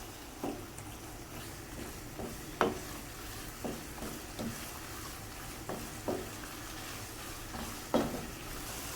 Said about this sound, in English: Add in half an onion finely sliced. Stir fry for a minute or two.